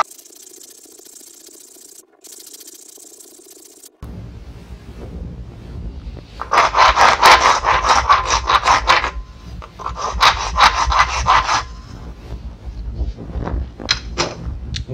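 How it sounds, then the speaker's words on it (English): A Shinto rasp shapes a horn tip overlay on a self bow, giving loud, rough rasping strokes in two long bursts followed by shorter scrapes, close by and without talk. "Another good tool is this Shinto rasp here."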